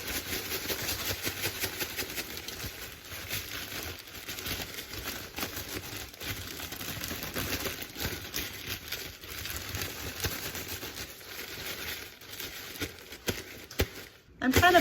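Raw pork chops are shaken in a zip-top plastic bag of coating, a dense continuous rustle and crinkle of plastic with rhythmic shaking, close and steady for several seconds before a brief pause.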